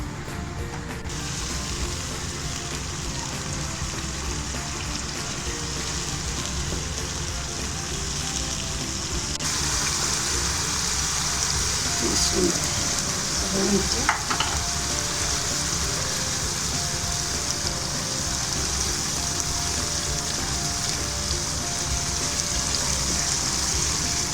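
Onions fry lightly in a pan for masala kaleji, giving a steady, dense sizzle throughout with a few faint scrapes midway.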